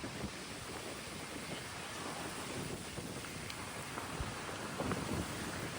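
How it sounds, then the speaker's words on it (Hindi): Strong wind blowing by the Yamuna river in Vrindavan, a steady broadband roar buffeting the microphone throughout with faint gusty surges, no talk over it. "बहुत ही जोर से हवा चल रही है"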